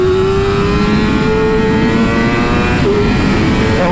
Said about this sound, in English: when I crack that throttle, it delivers power to that back tire right away.